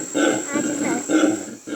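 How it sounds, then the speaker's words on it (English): Deep, rolling red howler monkey roars in repeated pulsing waves, loud and resonant, with a steady high whine running underneath. "The sound you hear is the roar of a howler monkey."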